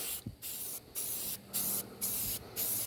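Primer sprays from a rattle can onto a car's master cylinder in four or five short, close bursts of loud hiss, each separated by a brief silent pause.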